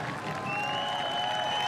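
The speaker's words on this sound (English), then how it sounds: "there's a big, big cheer for Rollins" A crowd cheers and applauds for Rollins at the finish of the 2015 Gent–Wevelgem cycling race, a steady roar of distant applause with a faint whistle-like tone running through it.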